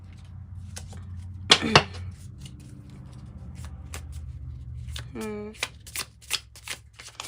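A Kipper card deck is shuffled in two quick riffle bursts, then a short ripple of cards follows later, with sharp card snaps and light handling clicks around them.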